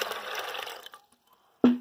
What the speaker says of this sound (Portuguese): Vamos colocar água no nosso feijão para cozinhar.